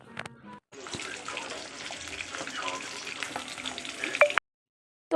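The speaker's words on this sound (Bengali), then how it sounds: "তাই মাছটা ভাজছি" Fish fries in a home kitchen pan with a continuous crackling sizzle and occasional stirring clatter, heard close, before cutting off abruptly near the end.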